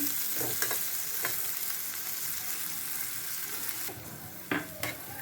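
Chopped onion with garlic frying, a soft steady sizzle with occasional spatula taps, fading slightly before a few louder stirring knocks near the end.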